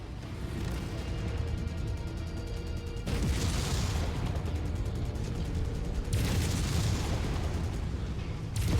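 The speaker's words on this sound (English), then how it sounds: "Incoming missile." Missile explosions in the Mechwarrior 5: Mercenaries video game, with dense rumbling blasts landing in heavy waves and fresh bursts near the 3 and 6 second marks, loud and continuous over a constant low battle drone.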